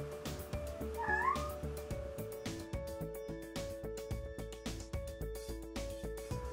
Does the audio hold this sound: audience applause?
no